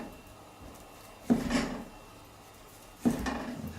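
Smoked pork belly sliced into thick pieces on a cutting board, with two sharp knife strikes against the wood a couple of seconds apart over a low, quiet background.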